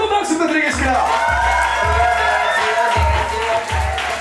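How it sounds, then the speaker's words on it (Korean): An audience claps and cheers steadily, with a few whoops, while a voice speaks over the applause. "자, 수고해 주신 우리 세 분께 뜨거운 박수 부탁드리겠습니다."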